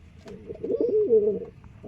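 A white-eyed pet pigeon coos nearby, a single rolling, throaty call rising and falling over about a second against a quiet background.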